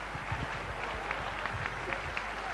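Studio audience applause on a television comedy show, a steady wash of clapping with some faint voices mixed underneath.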